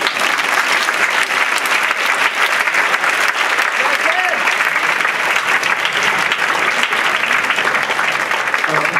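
A concert band audience applauds steadily and loudly for a full stretch, dense clapping filling the hall without pause, with faint voices mixed in.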